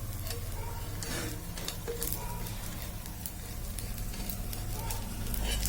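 Fasting dosa crisping on a hot pan gives a steady, quiet sizzle and crackle with faint scattered ticks, close by and unbroken throughout.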